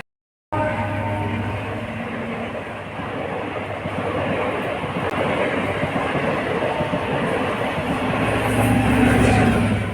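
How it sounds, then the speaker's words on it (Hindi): A train rumbles steadily past a level crossing in Bara Bazaar, Bareilly, India, with continuous heavy rolling noise and faint clatter of wheels, growing slightly louder toward the end. "दोस्तों ये रेलवे क्रॉसिंग है"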